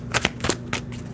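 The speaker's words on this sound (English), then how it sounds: "Obviously, we got to shuffle the cards for a little bit just to get it reset." Tarot cards being shuffled for a reading give quick riffling and flicking bursts, close and crisp, in a short run with a low steady hum underneath.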